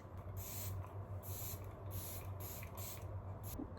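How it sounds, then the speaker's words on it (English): Makeup setting spray hisses in several short, rhythmic bursts close to the ear, the pumps coming about every half second over a faint background hum. "We're going to put on some setting spray until I take this off later."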